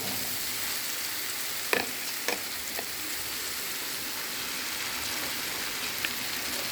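Onion, tomato and masala frying on a tava for a fish fry, a steady broadband sizzle throughout with a few brief clicks and stirring knocks, close and alone without voices.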